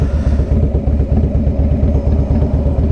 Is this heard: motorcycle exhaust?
yes